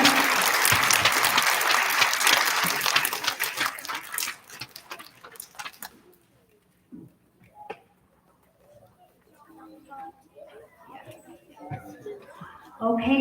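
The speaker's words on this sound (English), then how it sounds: "Can we get a nice big round of applause for our friends that are safe bus riding behavior?" An audience at an elementary school award ceremony claps loudly and densely for several seconds, then the applause fades out into quiet room noise with scattered small sounds and a brief voice near the end.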